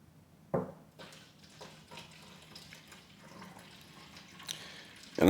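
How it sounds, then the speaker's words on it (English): Purified spring water trickles and splashes into a plastic Windex spray bottle, a soft continuous pour with small drips and a few sharper knocks from handling the bottle, with no voices. "I'm just going to keep on pouring the water until it fills up."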